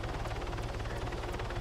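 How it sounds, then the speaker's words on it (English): A helicopter in a video game flies off, its steady rotor thrum and faint periodic blade thumps filling the short stretch alone without voices. "I spawned in and then the heli was clearing off."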